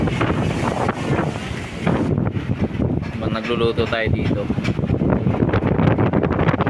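A strong, steady wind roars and buffets the microphone on an island shore ahead of an incoming typhoon, loud and continuous while someone talks through it.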